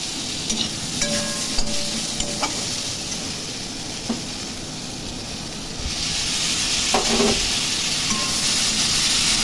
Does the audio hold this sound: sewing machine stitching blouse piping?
no